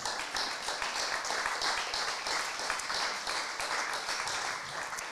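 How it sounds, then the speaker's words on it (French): Dense, steady applause from a large audience at a press conference on the future of major rivers, sustained at an even level throughout with no pause. "sous vos applaudissements"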